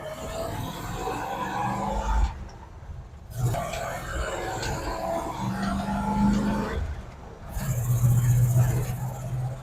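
A roughly forty-year-old truck with newly replaced brake lines drives along. The engine rumbles and rises and falls in steady revving passes, and people talk inside the cab.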